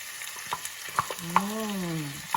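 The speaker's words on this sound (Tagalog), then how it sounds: "Luto naman yan ng potato. Instant potato." Instant potatoes frying in a pan with a steady broadband sizzle and a few utensil clicks, plus a rising and falling tonal whine over the hiss, close and moderately loud.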